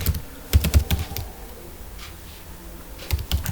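Java code being typed on a computer keyboard, two quick bursts of close, crisp key clicks with a quiet pause between them, no talking.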